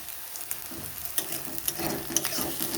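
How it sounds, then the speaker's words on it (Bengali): Ginger and green chilli frying in a pan, a soft sizzle broken by scraping stir strokes and small pops, close and moderately quiet with no talking. "এরপর আদাটা দিয়ে দিলাম, কাঁচা লঙ্কা"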